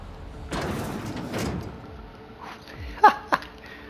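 A door closing in the video game The Outer Worlds, heard as two short sharp knocks close together near the end, following quieter game ambience and movement sounds.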